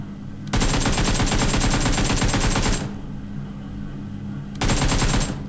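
Rapid automatic gunfire from a solo-versus-squad shooter video game rattles loud and close in one long burst, pauses, then starts again in a shorter burst.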